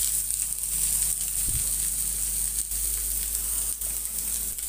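Onions sizzling in a little oil in a pan, a steady close hiss of frying with a brief knock partway through, no talk.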